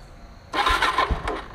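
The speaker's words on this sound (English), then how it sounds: "Wow, that poop can exhaust sounds really nice." A dirt bike fitted with a poop can exhaust starts up, its engine catching abruptly and running with a rough, loud burble for about a second, close by.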